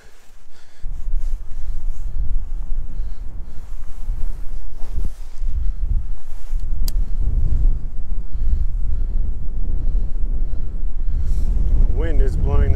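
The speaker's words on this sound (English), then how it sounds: "Wind is blowing this like crazy. Can't even cast." Strong gusty wind buffets the microphone at a snowy, icy lakeshore at Mammoth Lakes, a loud continuous low roar throughout, with a voice speaking briefly near the end.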